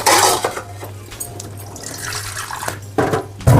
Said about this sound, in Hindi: तब तक मैं थोड़ा सा कटोरी में पानी ले लेती हूँ,